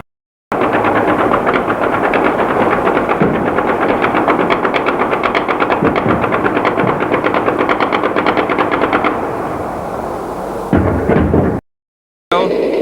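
Heavy machine-gun fire in a war zone in Amman rattles in loud, rapid, unbroken bursts for about nine seconds. It then fades and ends with a few scattered pops before silence.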